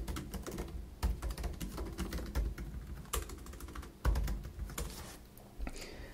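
Typing on a Mac keyboard, with steady, close clicks and irregular bursts of keystrokes and a few heavier key thumps over about six seconds.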